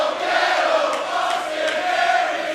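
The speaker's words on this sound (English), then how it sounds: "listen to the crowd, you know who it is" A wrestling crowd cheers for Penta El Zero Miedo in a large arena, a steady roar of many distant voices that holds without pause.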